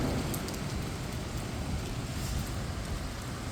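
Heavy rain pours down in Kochi, a steady, dense roar of downpour that holds at constant loudness throughout, with no voices.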